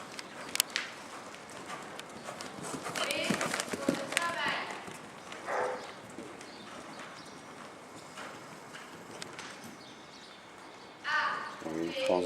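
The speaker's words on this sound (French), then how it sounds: "Bon galop." A horse gallops during a riding session, its rhythmic hoofbeats thudding at middle distance against birds and insects, with a voice heard briefly at times.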